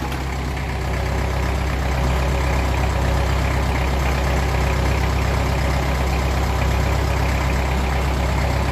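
A 1954 Ferguson 20 TEF diesel tractor engine runs loud and close, a steady low heavy throb that rises slightly into a rev and holds there throughout, with no voices.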